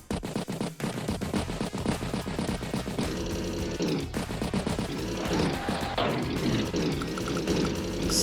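Gunfire in an Advance Wars battle between tanks, artillery and infantry: rapid, dense bursts of shots and rumbling impacts keep going for several seconds over busy game music.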